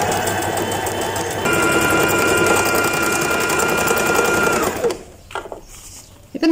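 A Brother GS2700 sewing machine stitches in a steady, fast mechanical whir with a fine rhythmic needle clatter and faint motor whine, close and loud, before stopping abruptly and leaving a few handling clicks and taps.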